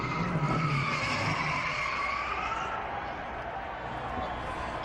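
A NASCAR race car spins at Dover, its tires squealing and skidding continuously over the roar of racing engines, a sustained harsh screech with a distant crowd murmuring underneath.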